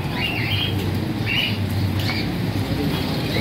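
Caged pigeons and parrots at a bird market give scattered chirps and squawks over a constant low hum of market background noise, the calls coming in short bursts at moderate distance.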